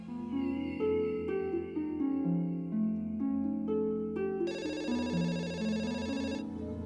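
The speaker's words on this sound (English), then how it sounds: "business phone started to ring straight away" A business telephone in a home office rings with a melodic electronic tone, a stepping pattern of notes followed by a brighter, buzzier ringing burst, moderately faint and alone.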